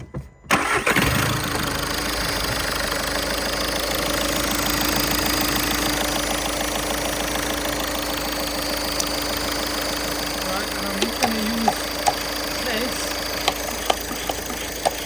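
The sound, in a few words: diesel car engine starting and idling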